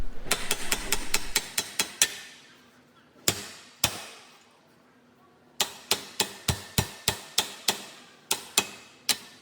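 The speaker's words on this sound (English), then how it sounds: "I will hammer the bearing the rest of the way out using the Lyle tool" A Lyle tool hammers out a stubborn rear wheel bearing on a 2024 Subaru Crosstrek, with sharp metallic blows landing in quick clusters and short pauses between them, loud and close, without speech.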